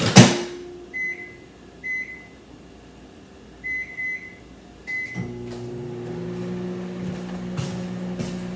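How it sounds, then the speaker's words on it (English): Several short electronic beeps in pairs, a door clunks shut, then a steady low mechanical hum of a running microwave oven heating a frozen beef and broccoli meal fills the rest. "I need to put it in the microwave some more"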